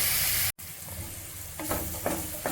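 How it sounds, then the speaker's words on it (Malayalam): Onion frying in a pan for chicken curry gives a soft, steady sizzle with occasional stirring scrapes, close but fairly quiet, with a brief dropout near the start. "ഈ ഉള്ളി വറക്കുന്ന സമയത്ത് നമ്മൾ ചെറിയ ഫ്ലെയിമിൽ വേണം നമുക്ക് ഇതിട്ട് കൊടുക്കാൻ"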